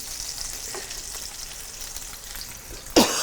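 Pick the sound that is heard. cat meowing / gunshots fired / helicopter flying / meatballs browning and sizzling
meatballs browning and sizzling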